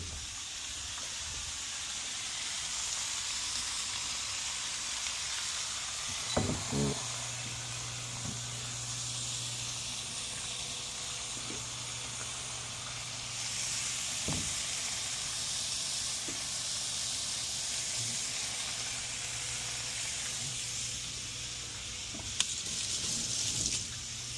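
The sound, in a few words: steak sizzling in an Our Place Titanium Always Pan Pro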